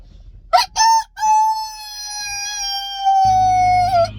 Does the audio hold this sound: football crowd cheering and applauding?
no